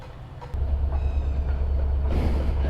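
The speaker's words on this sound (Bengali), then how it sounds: "এটা কোন ট্রেন?" A train passes a railway crossing in Joypurhat city with a heavy, steady low rumble and faint rhythmic rattling, loud and close throughout, with no talking.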